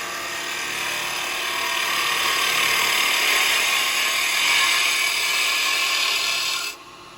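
A carbide chisel cuts shavings from wood spinning on a lathe, making a steady close scraping rasp with a faint motor whine that holds for several seconds before dropping away near the end.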